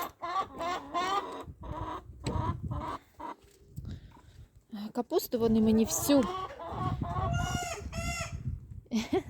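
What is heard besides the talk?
chickens clucking and young rooster crowing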